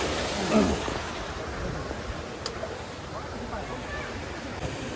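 Rushing river water in Dharan, Nepal, a steady close roar of broadband noise that runs unbroken through the whole clip, with a brief voice near the start.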